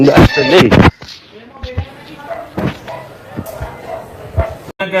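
A village dog barks in a few sharp bursts near the start, followed by quieter scattered knocks, with people talking over much of it.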